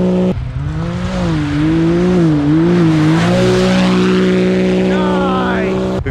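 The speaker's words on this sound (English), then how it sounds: "Ed with his X3 now is gonna do a couple laps, see how his car is." Can-Am X3 side-by-side on studded tires lapping a frozen lake, loud continuous engine drone rising and falling in pitch as it accelerates, with no talking.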